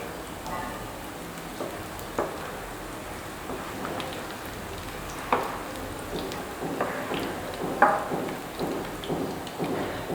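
Ground beef hitting a hot pan for cottage pie filling, a steady crackling sizzle with scattered louder pops and spits, fairly close and continuous.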